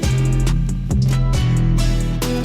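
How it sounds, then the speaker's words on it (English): A pitched-up, bit-crushed guitar layer with a chipmunk-like tone sits on top of a lead line. The pair play a quick run of plucked notes, loud and continuous, for a couple of seconds. "It gives it this bit crushed chipmunk kind of sound"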